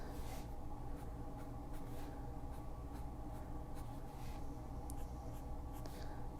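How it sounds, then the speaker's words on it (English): A pen drawing short dashed lines on paper close up, making a run of quick, faint scratchy strokes over a low steady background hum, with no talking. "Another thing I really like to do on these is to draw some little dashed lines."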